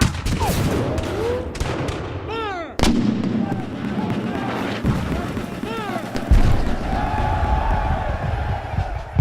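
Civil War reenactment cannon fire at a Shiloh battle commemoration, a loud blast followed by booming artillery shots and rolling echoes outdoors, with whistling and crackling amid the volleys.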